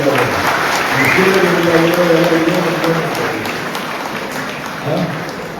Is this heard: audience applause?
yes